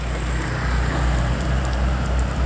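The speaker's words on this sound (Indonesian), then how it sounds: "Hujan juga." Steady rain pours during a flash flood, a dense continuous hiss that stays loud throughout. A low vehicle or engine rumble sits underneath, and no one speaks.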